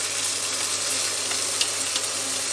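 Chopped onion tipped into a hot pan for an apricot and prune tajine, giving a loud, steady close sizzle of frying that holds evenly throughout with no talking.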